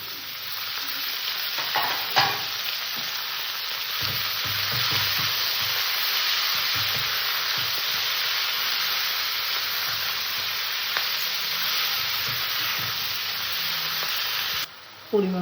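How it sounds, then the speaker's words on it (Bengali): Mustard greens are added to potato and carrot already frying in a pan for a vegetarian radish-greens curry, producing a loud continuous sizzle with stirring scrapes, close up, ending in a brief cut. "এবার এখানে আমি সর্ষে শাকটা দিয়ে দেবো"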